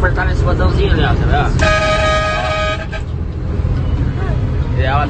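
A single sustained horn beep blares for about a second amid traffic noise, with people talking around it.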